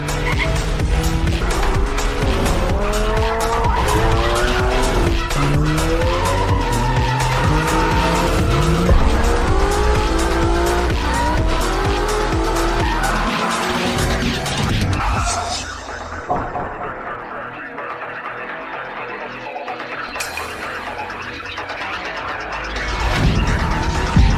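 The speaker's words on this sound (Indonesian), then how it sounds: "Astaga, mobil apa sih cepat banget?" A fast race car roars along a road with tires squealing and skidding, the engine note rising and falling loudly and continuously for about fifteen seconds before dropping to a quieter, rougher engine rumble.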